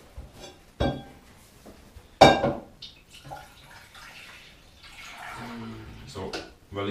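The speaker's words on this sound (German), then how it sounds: "Ich gieße es allerdings um." Rhubarb juice is poured from a container back into a pot while making kombucha: splashy liquid pours and glassy clinks come in short bursts, with quieter handling noises in between.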